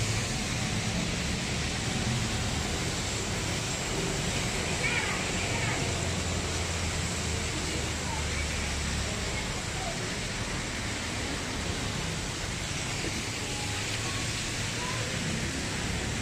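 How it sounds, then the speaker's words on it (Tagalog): Steady, dense hiss of rain falling continuously, loud and unbroken throughout with a faint low rumble underneath. "Eh guys, umuulan guys oh."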